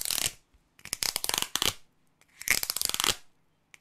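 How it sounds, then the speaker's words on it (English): A finger scrapes across ridged cardboard in several quick rasping strokes, dry and clicky, close up with short pauses between passes. "when you take this cardboard and your finger, it sounds like this"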